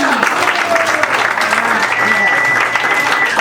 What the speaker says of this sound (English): It feels good to give Sue-Ann back the claps she's given so many others.